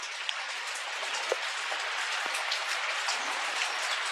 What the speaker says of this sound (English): It is raining outside here, Baltimore, Maryland.